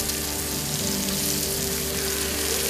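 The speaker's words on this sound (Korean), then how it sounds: "대리석 불판 위에서 지글지글 삼겹살이 익어간다" Pork belly sizzles on a marble grill plate at a marble mine, a steady dense crackle of frying fat held close and continuous throughout.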